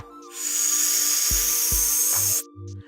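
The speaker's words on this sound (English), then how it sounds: "It's a loud sound as if you're inhaling through a small straw," A loud, steady airy hiss of an inhale drawn as through a small straw, lasting about two seconds before cutting off.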